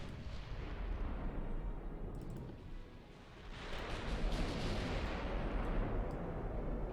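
Heavy naval gunfire from warships in the video game Ultimate Admiral: Dreadnoughts booms in loud rolling salvos, a dense roaring barrage that dips briefly before swelling again into sustained thunder.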